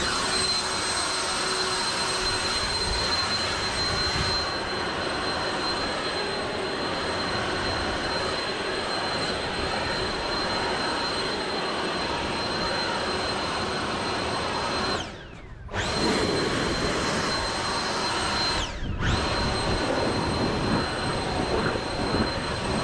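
A leaf blower runs steadily at close range, a loud continuous roar that keeps up throughout, cutting out briefly twice, once for about a second and once for a shorter moment, before resuming.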